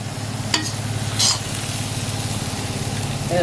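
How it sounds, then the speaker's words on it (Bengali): Elephant foot yam greens fry in a pan, giving a steady sizzle with a low, constant background hum and a couple of brief scraping stirs from a utensil, no talking. "হয়ে গেছে ওল শাক ভাজা"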